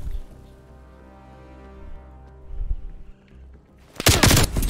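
Sniper rifle gunfire in a video game, a low droning hum gives way to sharp, loud shot bursts with dense crackling near the end, no speech.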